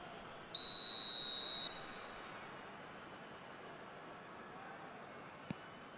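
A referee's whistle in a football video game, one sharp high blast of about a second over steady crowd noise from the stadium.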